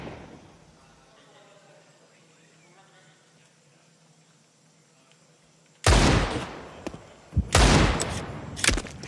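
Counter-Strike match between GamerLegion and 9INE: after a stretch of quiet game ambience, bursts of loud gunfire break out, several rapid shots clustered together in the final few seconds, with a commentator talking over the action.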